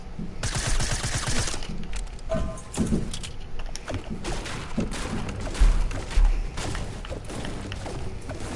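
Rapid gunfire aimed at a wall or floor upstairs, a dense continuous stream of sharp shots and impacts with a few heavier thuds, fairly loud throughout.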